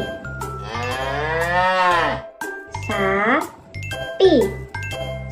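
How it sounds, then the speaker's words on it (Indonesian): A cow on a livestock farm lets out three long, drawn-out moos, the first loud and sustained and the later ones shorter, over a steady background of upbeat music with a low pulsing beat. "Sapi,"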